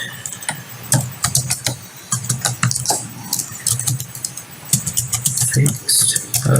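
Rapid, irregular clicking of a computer keyboard as git commands are typed, close and fairly loud, with a low hum and some faint talk underneath.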